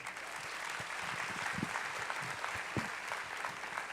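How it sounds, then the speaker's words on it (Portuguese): The congregation of a Baptist church applauds for Moisés, a sustained, even spread of many hands clapping together, moderately distant and unbroken for the whole stretch. "Uma salva de palmas para Moisés."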